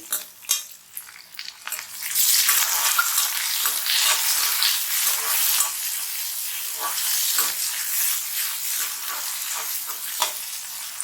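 Tomatoes and curry leaves frying in a pan for a drumstick tamarind curry. A few utensil taps come first, then a loud, steady sizzle starts with stirring scrapes running through it, close up.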